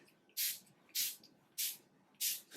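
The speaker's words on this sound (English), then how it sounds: "I'm gonna apply a little bit of the Versali Rose Gold Skin Mist" Four short, crisp hissing bursts of Versali Rose Gold Skin Mist from a pump sprayer, evenly spaced about half a second apart, close and clear against a quiet room.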